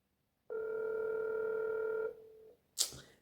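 A telephone line rings with a single long electronic tone lasting about a second and a half. It is clear and fairly quiet, then fades, and a brief clunk follows.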